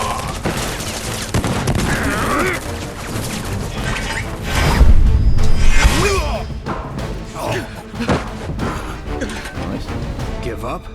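Rapid bursts of gunfire crackle through a battle in Final Fantasy VII Remake, mixed with crashes, impacts and whooshes, loudest mid-way, under voices talking.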